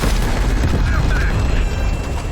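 Gunfire and booming blasts from the Call of Duty Cold War campaign during a convoy firefight, dense and loud rumbling bursts that continue throughout, with voices speaking over the action.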